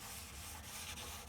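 Light strokes rubbing rust off the metal body of a 1957 Chevy four-door, a faint, continuous dry scratching rasp heard close up with no voices.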